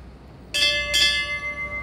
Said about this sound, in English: The toll of the bell reminds us of the reverence we owe them